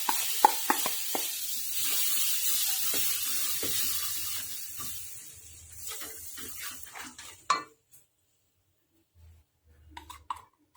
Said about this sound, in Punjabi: ਹੁਣ ਆਪਾਂ ਇਹਦੇ ਵਿੱਚ ਕੱਦੂਕਸ ਕਰੇ ਹੋਏ ਟਮਾਟਰ ਪਾ ਦਵਾਂਗੇ